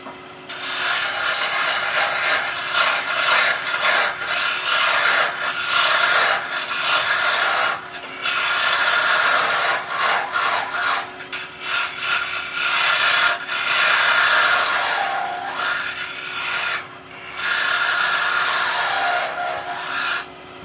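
A skew chisel cones down a spinning workpiece on a wood lathe for a Christmas tree, giving a loud, sustained rasping scrape in long passes broken by brief pauses.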